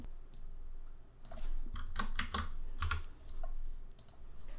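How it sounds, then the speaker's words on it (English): Someone types on a computer keyboard while editing artwork in Photoshop, a quiet, close patter of key clicks in short irregular bursts with brief pauses between. "clicking Control T on my keyboard to adjust the size"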